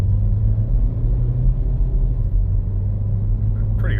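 Steady low engine drone and road rumble from a Ford EcoBoost car, troubled by harsh shifts and multiple fault codes, driving up a street, heard from inside at an even, loud level.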